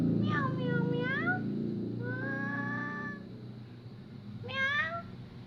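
A cat meows three times, close and clear, with separate rising-and-falling calls at the start, in the middle and at the end, over a low background hum.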